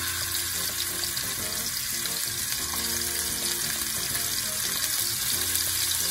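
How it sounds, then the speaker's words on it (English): Lamb chops sizzle loudly in a hot pan, a dense, steady crackling hiss that continues without a break at close range. "And you got the good sizzle right away."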